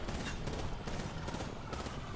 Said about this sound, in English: You're getting shot from somewhere else.